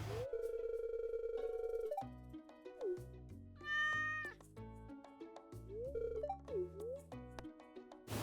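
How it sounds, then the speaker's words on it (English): A pet cat in a farming life-sim video game meows repeatedly in short synthesized calls, mixed with bright chime-like game music and jingles throughout. "I got my cat"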